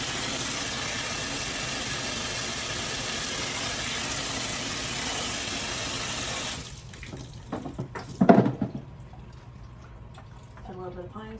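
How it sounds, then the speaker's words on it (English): Hot water runs from a tap into a cleaning bucket in a commercial building, a loud steady rushing stream that cuts off partway through, followed by a few sloshing knocks and quieter handling sounds. "we're going to put some water in this bucket."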